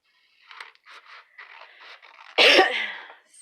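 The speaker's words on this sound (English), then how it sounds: "Sorry for my coughing" A single harsh, close cough bursts out abruptly from a woman with a cough and fever, following a stretch of soft paper rustling and handling sounds.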